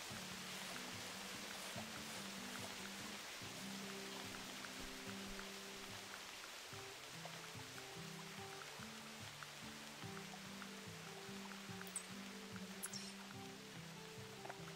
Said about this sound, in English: Be done with the rain soon.